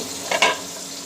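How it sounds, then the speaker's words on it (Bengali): Eggplant sizzles steadily as it fries in a pan, a close hiss with a brief louder burst of spatter as the pieces are stirred. "আর বেগুন ভাজি করছি আর করলা আলু দিয়ে"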